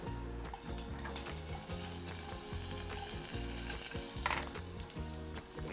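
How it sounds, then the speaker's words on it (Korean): Onions sizzle steadily in a hot pan, stir-fried with intermittent scraping and stirring, loud and close with no one talking. "타지 않을 정도로 슬슬 볶아주면 되고 약간 노릇노릇하는 게 맛있어요."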